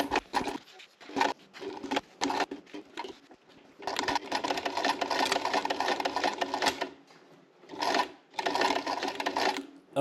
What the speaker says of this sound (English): A couple more reverse stitches at the end.